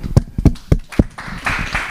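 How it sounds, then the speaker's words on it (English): Audience applause at a tech meetup, a few sharp scattered claps rising into a short burst of clapping, close and loud at first, then a softer rustle. "A round of applause."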